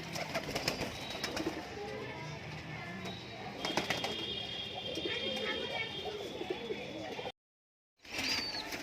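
Pigeons coo in a loft of colour-matched birds, including one that is black with a white beak and is feeding its chicks; soft cooing and fluttering fill the space while someone talks throughout, with a brief silent gap near the end.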